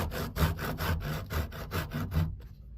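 A hand saw rasps through wood in about eight steady back-and-forth strokes while a double barley twist spiral is cut for a candle stick holder. The strokes are close and rhythmic, then stop abruptly near the end.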